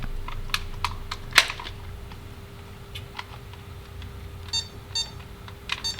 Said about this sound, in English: Oh, I heard a beep.